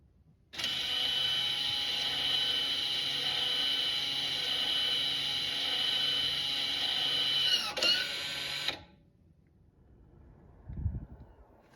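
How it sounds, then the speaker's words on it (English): Rear electric parking brake motors on a 2023-2025 Toyota Prius hybrid wind back in with a steady, high-pitched mechanical whir lasting about eight seconds, then stop abruptly, leaving near-silence and a soft thump. "you can hear the park brake motors winding back in"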